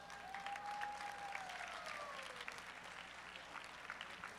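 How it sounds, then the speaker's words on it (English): Applause from the audience at a college nationals powerlifting meet, a steady wash of clapping throughout with a faint whining tone sliding downward in the background. "now give them one more round of applause."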